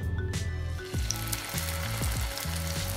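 A tofu burger patty searing in hot oil, giving a steady close sizzle and crackle throughout.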